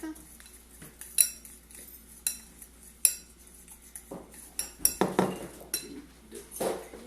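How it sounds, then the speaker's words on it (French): A spoon clinks and scrapes against a bowl while fromage blanc is stirred with a sweetener, giving irregular sharp taps and wet stirring strokes, close and alone. "on mélange le fromage blanc avec l'énergie diète"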